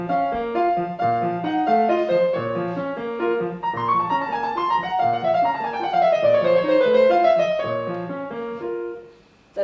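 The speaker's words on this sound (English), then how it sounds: "I will play you a Chopin nocturne" Solo piano playing a Chopin nocturne straight as written, with a steady flowing accompaniment under a singing melody line, clear and alone with no talking.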